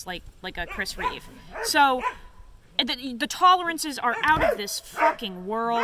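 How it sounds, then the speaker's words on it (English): Dogs bark and yip repeatedly close by, overlapping someone talking steadily throughout. "I'm so sorry about the barking. The dogs are having a field day out here."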